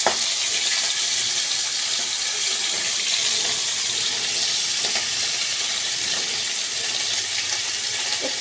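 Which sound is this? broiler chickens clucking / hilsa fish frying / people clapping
hilsa fish frying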